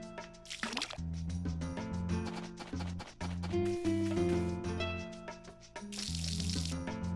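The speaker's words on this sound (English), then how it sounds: "So let's just finish watering everything, ship everything, and then we'll head to bed." Crops being watered in the farming video game Harvest Moon: Another Wonderful Life, heard as a few short splashy pouring bursts layered over steady, melodic game music.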